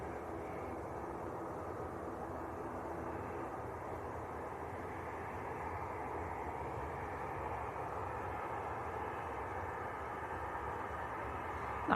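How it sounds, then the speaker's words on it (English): A Finnair Airbus airliner at Manchester Airport gives a steady, distant broadband roar that holds evenly throughout, faint and unbroken, with no voices over it. "Nice to see an Airbus on the fin air."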